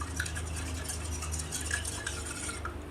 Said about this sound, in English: So I'm stirring all my liquids together